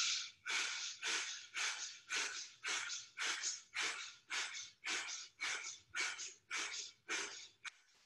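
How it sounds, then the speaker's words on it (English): Someone takes a series of rhythmic, forceful breaths during exercise, about a dozen evenly spaced loud, breathy puffs in close succession with no talking. "Breathe in."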